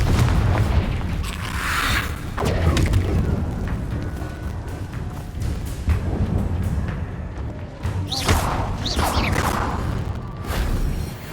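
Fiery spell blasts from Hogwarts Legacy combat boom and crash repeatedly over a rumbling game soundscape, loud and close, with whooshing bursts between impacts.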